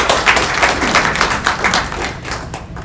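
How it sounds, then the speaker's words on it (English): Audience applause at an outdoor book and music festival in Hawaii, a steady patter of many hands clapping close by for about three seconds, moderately loud with no talk over it. "Let's have a big round of applause for Zaya."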